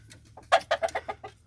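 A gamefowl rooster clucks in a quick series of about seven short, loud calls close by, with a low steady hum underneath and no talking.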